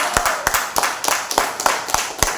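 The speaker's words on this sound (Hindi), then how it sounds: "ताली नहीं बजाओगे जोर से?" Church congregation clapping in a steady rhythmic beat, about eight sharp unison claps in quick succession, loud and close.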